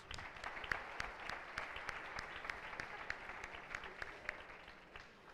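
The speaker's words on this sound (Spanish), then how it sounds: "un fuerte aplauso a los recién llegados" An audience at an equality awards ceremony claps to welcome newcomers: soft, fairly distant applause with distinct individual claps, continuing evenly for several seconds.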